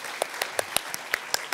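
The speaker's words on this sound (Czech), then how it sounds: "dajme im potlesk" A few separate claps ring out at a cultural-house talk evening, about eight sharp hand strikes spaced unevenly over a second and a half, sparse and moderately close rather than a full ovation.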